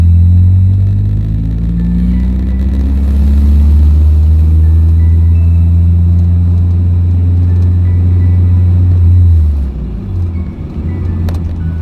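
A 1999 Mazda Miata fitted with a K&N Typhoon intake drives along with a loud, steady low engine drone and road rumble. The engine note drifts up and down gently, then eases off near the end, with no speech.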